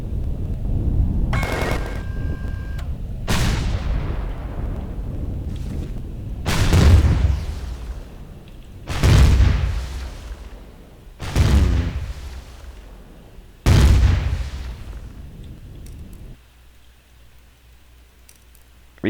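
Four big booming blasts from weapon fire blowing up asteroids in the space game Empyrion, each a loud burst with a rumbling tail, spaced a couple of seconds apart, followed by quieter ambience.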